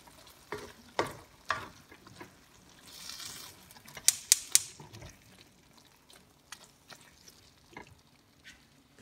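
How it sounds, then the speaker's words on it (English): Fish escabeche is stirred in a frying pan, with soft sizzling under a few scrapes and clinks of a utensil against the pan, including a quick cluster of sharp taps midway. "we'll give it a good stir"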